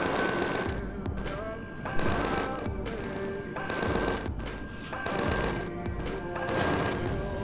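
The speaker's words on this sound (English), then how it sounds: "And he's training the cannon at me." Enemy ship cannon fire in the space combat game Empyrion: Galactic Survival, repeated heavy blasts and crackling bursts in irregular volleys over a continuous rumbling background, loud and close.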